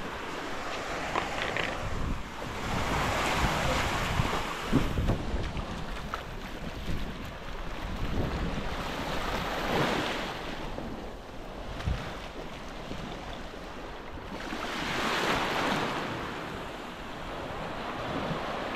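Strong wind buffets the microphone while sea waves surge and break in slow, repeating swells, loud and close, with no voices.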